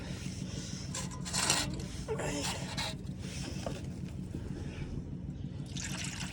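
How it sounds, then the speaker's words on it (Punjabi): Water poured out for pigeons, quiet splashing and trickling in short bursts with pauses between them, and a voice faintly heard. "ਲਓ ਭਾਈ ਇਹਨਾਂ ਨੂੰ ਤਾਂ ਪਾਣੀ ਪਾਤਾ"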